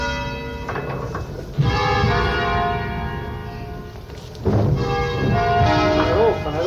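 The five bells of the parish church in Lallio, Bergamo, ring together in a loud, sustained, overlapping peal, with fresh strikes swelling the sound every few seconds and faint voices underneath.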